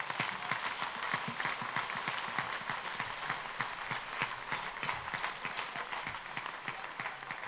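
A church congregation applauds God, sustaining fast, steady clapping from many hands at moderate volume for over seven seconds, with no pauses.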